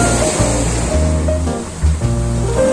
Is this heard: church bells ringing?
no